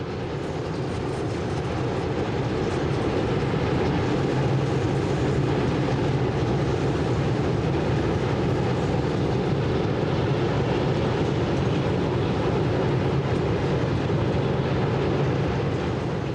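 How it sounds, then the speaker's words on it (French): A heritage nostalgia train crosses the Biesenbach viaduct, producing a loud, continuous rumble and roar of rolling wheels that holds steady throughout, with no voices. "Lorsqu'enfin le train aborde le viaduc de Biesenbach"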